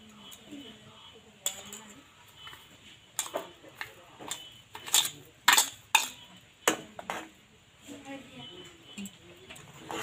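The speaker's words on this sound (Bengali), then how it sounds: "চিনিটাকে ভালোভাবে একটু মিশিয়ে নেওয়ার পর" A spoon clinking and scraping against a pot while sugar is stirred into hot milk, irregular sharp metallic taps growing louder midway, with someone speaking quietly in between.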